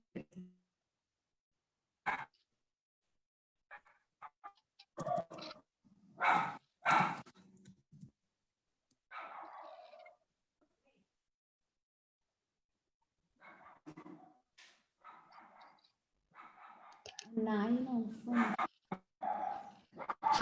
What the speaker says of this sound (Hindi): यहाँ पे एक कुत्ता एक्चुअली बहुत जोर जोर से भौंक रहा है